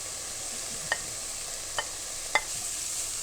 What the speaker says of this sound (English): now we saute with the garlic.